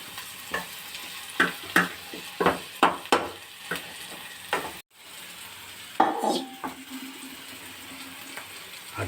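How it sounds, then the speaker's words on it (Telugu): Cut potato pieces for a potato curry are stirred in a frying pan, the utensil scraping and knocking in quick strokes over a soft sizzle, busy for about five seconds before easing into slower, sparser stirring. "ముక్కలుగా కోసుకున్న బంగాళదుంపలు వేసి ఇప్పుడు తిప్పడం జరుగుతుంది."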